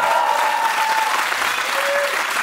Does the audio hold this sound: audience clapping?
yes